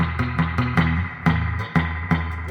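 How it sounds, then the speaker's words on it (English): Twangy electric surf guitar notes ring out with a splashy, wet spring-reverb drip from a Fender reverb tank on each plucked attack, played in a loose rhythmic pattern. "That big drip."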